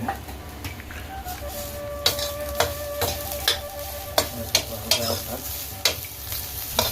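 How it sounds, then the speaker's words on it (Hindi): Grated carrot halwa cooks in cow ghee in a pan, a soft steady sizzle under repeated scraping stir strokes of a spoon against the metal, close and rhythmic. "घी में पका रहे हैं इसको अभी"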